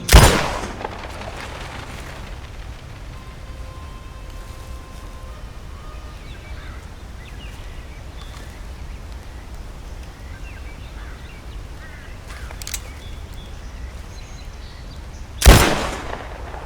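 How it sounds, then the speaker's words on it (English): Warning gunshots fired into the sky in Red Dead Redemption 2, one sharp loud report at the start and another near the end, with faint birdsong and quiet outdoor ambience in between. "if you fire a warning shot into the sky"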